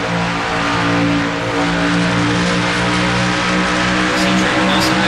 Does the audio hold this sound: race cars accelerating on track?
yes